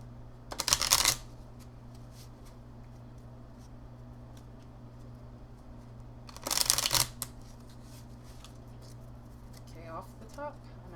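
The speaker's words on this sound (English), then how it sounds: "Just going to shuffle twice for these." A deck of fortune cookie oracle cards is shuffled twice, two short crisp riffling bursts several seconds apart over a quiet room hum.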